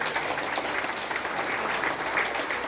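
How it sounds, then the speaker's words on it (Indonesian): Audience applause at a Kelabit naming ceremony and thanksgiving gathering, a steady dense patter of many hands clapping that holds evenly for the whole stretch with no talk over it. "Bagi tepuk tangan."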